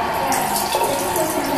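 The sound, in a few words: running bathroom sink faucet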